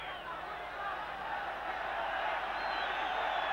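Football crowd at a Yugoslavia versus Wales match, a broad roar of voices swelling slightly as it goes, urging on the Yugoslav players, with a commentator's voice running over it.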